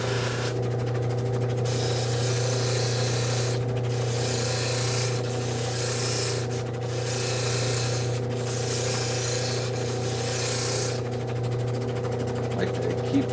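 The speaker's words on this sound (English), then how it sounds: "Like to keep the edges a little bit sanded so that they don't chip on me" Edges of a handmade witch figure being sanded by hand, repeated rubbing strokes in a steady rhythm over a constant background hum, with a person talking alongside.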